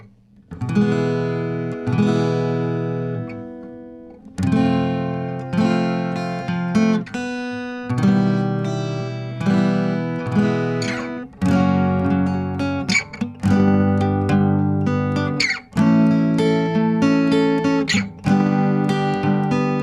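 A freshly tuned acoustic guitar is strummed in a series of chords with short pauses between them. It is close, bright and clear, and no one speaks over it.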